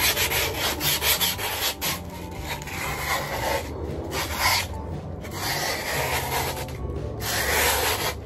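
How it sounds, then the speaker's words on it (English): Grip tape being sanded off the edges of a skateboard deck, a steady scratchy rubbing that runs continuously with short strokes and brief pauses, close and fairly loud. "Now I'm gonna get the excess grip and sand off the edges"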